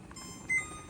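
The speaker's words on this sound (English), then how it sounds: "I am going to take it off when this timer goes off." A kitchen timer beeps once, a short bright electronic tone over the faint hiss of a stovetop where macaroni is boiling.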